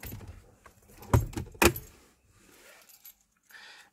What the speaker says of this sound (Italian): attiverò cioè aprirò un'altra volta la macchina aprirò la macchina così